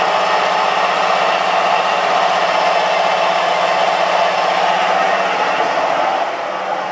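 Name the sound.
milling machine main spindle starting and running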